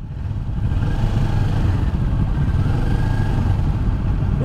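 A 2023 Kawasaki Ninja 400 motorcycle engine hums with a steady, buzzy drone at constant volume throughout, running close by with no talk over it.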